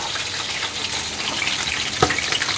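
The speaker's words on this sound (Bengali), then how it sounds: "এই যে এখন মাছগুলো ভেজে নিচ্ছি" Pieces of fish fry in a pan with a steady, close sizzle, and a sharper spatter bursts out near the end.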